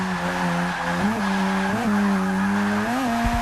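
A low-horsepower rotary-engine car revs hard in third gear, its steady buzzing engine note rising and dipping through several throttle surges, with a tire squeal as it goes, loud and close with no talking.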